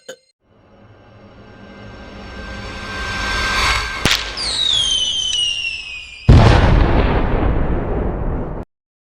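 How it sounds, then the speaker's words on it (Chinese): A whooshing signal flare rises with a building hiss, then sharp cracks and a whistling streak, followed by a loud crackling burst of fireworks that abruptly ends. "挺好看的烟花"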